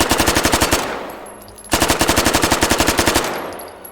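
Automatic gunfire from a weapon in the VR shooting game H3VR rattles out in two rapid, evenly spaced loud bursts separated by a brief pause, with no talk.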